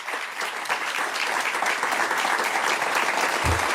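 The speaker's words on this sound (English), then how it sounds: "Please, let's give them all a round of applause." A seated audience at a Los Angeles Urban League civic event gives a sustained round of applause, dense steady clapping filling the hall from start to finish at an even, loud level.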